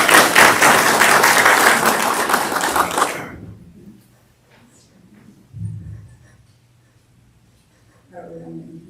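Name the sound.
applause for the first speaker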